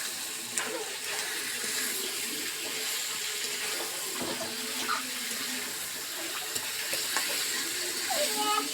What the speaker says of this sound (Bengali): মশলার সাথে একটু কষে নিচ্ছে।